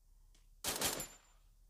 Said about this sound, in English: Some two people are shooting at each other.